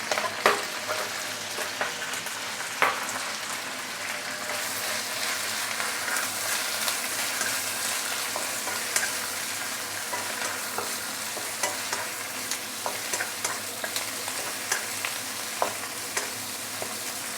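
Vegetables stir-fried with browned garlic and shallot for fried noodles with roast pork hiss in a continuous sizzle, with scattered scraping taps of a utensil against the pan.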